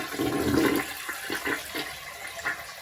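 A toilet flushes again during removal of a Brondell Fresh Spa bidet seat, the water supply shut off, with a bucket set beneath; a strong close gush fades into gurgling drips and trickles.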